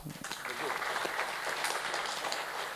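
An audience at an academic seminar on business school accreditation in Indonesia applauds two speakers, a fairly quiet but continuous patter of many hands with speech mixed over it.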